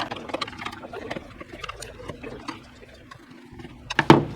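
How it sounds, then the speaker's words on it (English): Screws holding the bottom shroud of a Pride Mobility Victory 10 mobility scooter are driven tight. A fast, steady ticking whir is heard up close and ends in a louder clatter. "we want to go ahead and tighten up these screws here that are holding the bottom part of the shroud together."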